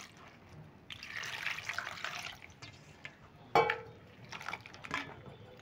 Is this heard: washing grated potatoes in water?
yes